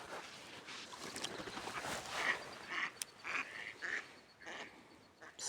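Several ducks quack in short, scattered bursts against a steady outdoor background by cold water while fishing, with a few calls standing out louder and closer than the rest.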